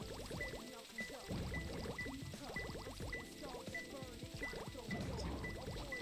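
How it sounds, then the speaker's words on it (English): Water draining and sloshing in the Sonic Adventure 2 Hero Story, a continuous gurgling liquid rush with bubbling and splashes under game music and sound effects. "I just need to get the water level down"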